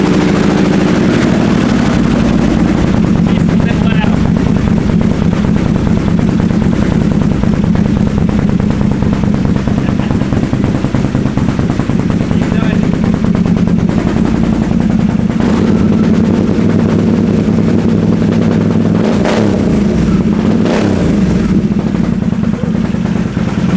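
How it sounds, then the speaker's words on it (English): Can-Am Outlander ATV with a full HMF exhaust and a nitrous system, engine running loud and close with a rough, popping, machine-gun-like rumble that holds steady and swells in revs, with no talking. "We have a full HMF on here, and I didn't even show you guys what it sounded like."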